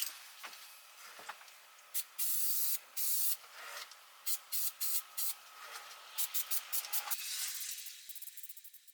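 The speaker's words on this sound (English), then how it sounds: "The same deep black spray paint used on the wheels is applied here." Short bursts of hissing aerosol spray, some brief and some longer, in an irregular series of puffs with quiet gaps between them.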